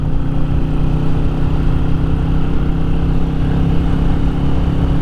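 A Royal Enfield Classic 350 motorcycle engine drones loud and steady on a road ride, its low, thumping tone holding evenly through a downshift from fifth to fourth gear around 50 mph.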